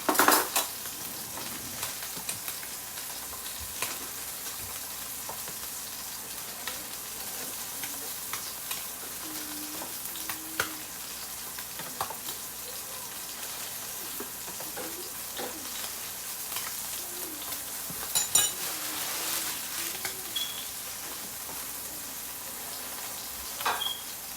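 Fish searing in a hot frying pan gives a steady sizzle throughout, with occasional clinks and scrapes of a utensil against the pan and faint kitchen clatter.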